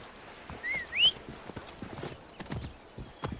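Horse hooves clip-clop steadily in the Assassin's Creed Origins game as the horse is ridden along a road, with a brief high whinny-like call early on and no talking.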